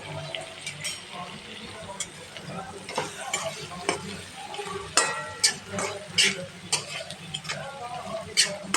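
Churumuri puffed rice tossed with spice powder and a little sugar is stir-fried in a pan, giving a steady soft sizzle broken by irregular scraping and clinking strokes of the stirring spoon, close and moderately loud.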